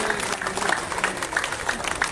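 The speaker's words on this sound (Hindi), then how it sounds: "महिलाएं देखो कितनी अच्छी तालियां बजा रही है" Women in a village welcome gathering clapping together, a dense, steady patter of applause from a crowd with a voice heard faintly underneath.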